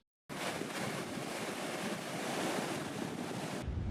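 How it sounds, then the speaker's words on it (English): Ocean waves breaking on Robertsport Beach in Liberia, a loud continuous roar of surf mixed with wind noise that starts abruptly and cuts off near the end. "look at the amazing waves coming up here"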